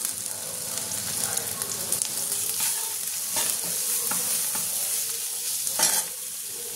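Ginger-garlic paste frying with browned onions in a pan for a Bengali-style prawn kosha curry, a steady close sizzle with stirring scrapes and a few sharper spatula clinks, no talking.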